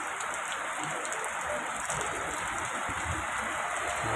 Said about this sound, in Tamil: முருடீஸ்வர் மழை பெஞ்சிட்டு இருக்குது பாருங்க.